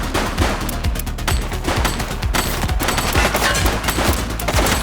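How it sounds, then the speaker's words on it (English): Dense, continuous gunfire from The Precinct, a police open-world video game on PS5 Pro, with overlapping rapid shots and bursts forming a loud, unbroken barrage. "Shots fired!"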